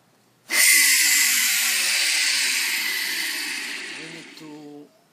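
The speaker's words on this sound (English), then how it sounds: "using a computer blower here" A handheld computer blower pushes a steady, loud hissing blast of air onto a dusty CPU chip casing, running continuously for about four seconds before cutting off, with a low hum underneath.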